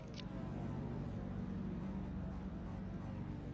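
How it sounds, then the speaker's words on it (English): A race car engine roars steadily and close, its deep, buzzing drone holding loud throughout with no voices. "Hear those revs starting to rise."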